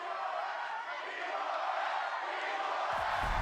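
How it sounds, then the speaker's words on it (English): A large esports arena crowd cheers and roars at the Valorant Champions 2023 tournament, a loud, steady wall of exultant noise held through the whole stretch, with a low rumble building near the end. "Exultations and cheers. The crowd"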